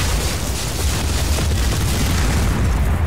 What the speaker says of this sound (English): I love the explosions in this game.